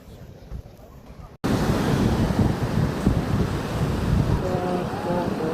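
Ocean waves wash onto Arambol Beach in Goa at sunset, a loud continuous surf roar mixed with wind buffeting the microphone, starting abruptly after a quieter opening second.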